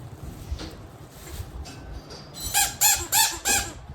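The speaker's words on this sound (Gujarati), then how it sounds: "ફાઇનલી પોપટ આવી ગયું છે." A parrot squawks four times in quick succession, loud harsh calls close by, after a stretch of low background noise and faint rustling.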